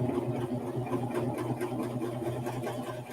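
A Pfaff five-thread serger runs steadily through a 5-thread stitch, its motor giving a continuous close-up whirring hum with a fast, even mechanical chatter throughout.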